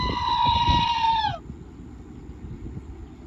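A goat near a salt lake area in Rockport, Texas gives one long, loud, wavering bleat lasting over a second, then fades into quiet outdoor background.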